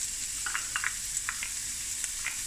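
A single onion fries in hot oil, giving a steady close sizzle with scattered sharp crackles and pops over about two and a half seconds.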